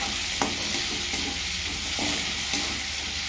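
Marinated lote fish fries in a spice masala with a loud, dense, unbroken sizzle close up, marked by a few soft stirring knocks and no talk.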